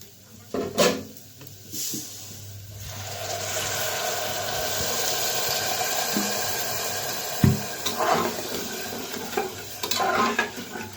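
Water poured into a pan of fried masoor dal with salt, turmeric and sugar, a steady rushing pour and sizzle filling most of the stretch, with a few clinks and splashes near the start and end.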